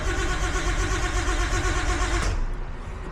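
A Nissan Skyline engine cranks continuously on the starter without firing, a loud, close, steady mechanical churn that eases slightly in the last second.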